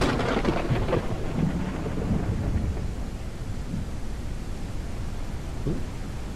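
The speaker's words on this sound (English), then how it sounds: "Let's get out of here before I get struck by lightning." Heavy rain hisses steadily in the survival game Mist Survival while low thunder rumbles roll through, a dense, continuous storm wash with occasional deeper booms and no talking.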